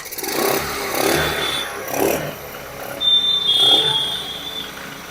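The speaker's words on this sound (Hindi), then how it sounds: "अब बाइक को स्टार्ट करूंगा।" A Hero Maestro scooter engine revs in uneven bursts, rising and falling several times with a rough, buzzing tone close by, and a faint high whine shows through near the end.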